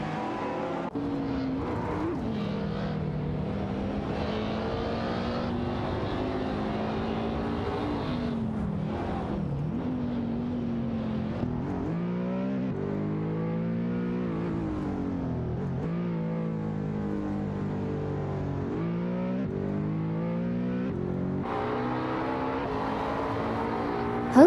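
Race car engines in an AI racing video game drone and whine continuously, rising and falling in pitch through gear shifts and acceleration, several cars layered together at steady loudness with no talk.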